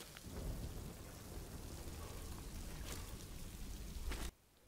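A stormy scene from House of the Dragon, with steady heavy rain and a few sharp thunder cracks over a low rumble, all cut off abruptly just before the end.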